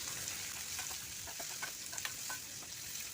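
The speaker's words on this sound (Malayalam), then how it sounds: "ഈ സമയത്ത് നമുക്ക് ആ സവാള അരിഞ്ഞത് അതിലേക്ക് ചേർത്ത് കൊടുക്കാം." Chopped onion frying in hot oil with crushed mustard seeds for a soya chunks roast, giving a steady bright sizzle with scattered small pops and crackles, close and continuous throughout.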